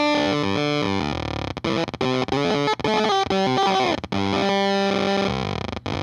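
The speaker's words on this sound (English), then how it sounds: "you get this synthy kind of tone" Electric guitar through a Bliss Factory fuzz pedal gives a synthy, heavily distorted tone, loud sustained notes and short bursts with brief gaps, decaying notes snapping between pitches, played alone without talk.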